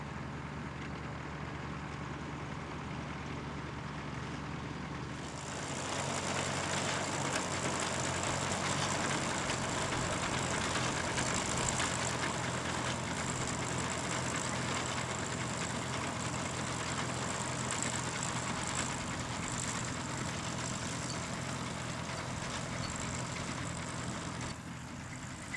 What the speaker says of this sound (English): the International Harvester binder, pulled by the International 414 tractor